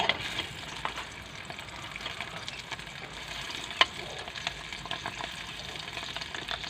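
Steady sizzling and crackling of food frying in a pan beside chicken, with occasional pops and scraping, no voices.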